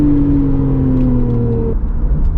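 A Porsche 911 Targa 4S of the 991.2 generation pulls hard out of a corner, its engine note rising steadily from close by for about two seconds before backing off abruptly.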